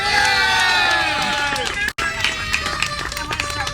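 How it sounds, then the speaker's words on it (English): A crowd at a Medicare rally outside a federal building cheers and shouts with scattered clapping, loud and lively, many voices overlapping with a brief drop in the middle. "Let's give all of our speakers a round of applause."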